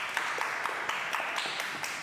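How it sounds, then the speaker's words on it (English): An audience at a startup talk gives a quiet, distant round of applause, a soft steady patter of clapping hands that continues evenly without talk over it. "So give him a round of applause"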